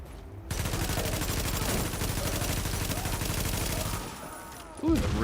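Sustained automatic G35 rifle fire in Tom Clancy's The Division, a dense rapid stream of shots lasting several seconds before it stops, loud and close, with a brief voice at the very end.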